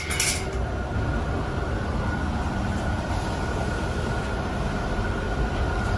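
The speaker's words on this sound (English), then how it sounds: "She's spinning, so the blower motor seems to be fine." A blower motor spins inside a Trane Intellipak EP59 self-contained unit, giving a steady broadband whoosh with a faint constant hum, preceded by a brief clatter at the start and no talk.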